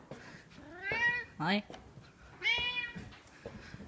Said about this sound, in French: Il parle beaucoup, ce chat.